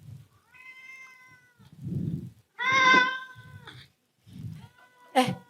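A hungry indoor cat meows several times while waiting to be fed. The loud, close calls come in separate bursts with short pauses, and faint low murmurs sit between them.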